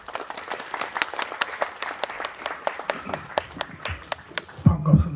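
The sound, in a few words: audience applause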